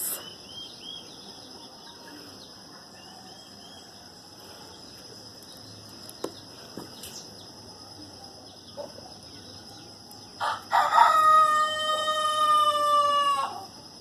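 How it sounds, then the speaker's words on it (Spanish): A rooster crows loudly and close by near the end, over a bed of steady insect and cricket chirring with faint outdoor background sounds and no one speaking. "Empezó el gallo a cantar."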